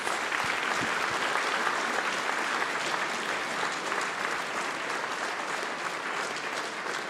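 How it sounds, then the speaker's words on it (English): An audience at a forum session on Europe claps steadily, a dense, even wash of applause that holds for several seconds without any speech. "let's give a huge round of applause to our guests"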